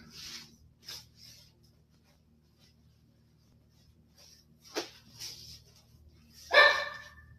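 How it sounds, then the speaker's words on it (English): Dogs bark in a few scattered, distant yelps, the last one louder and sharper, against an otherwise quiet room. "Uh-oh, the doggies are starting to bark again."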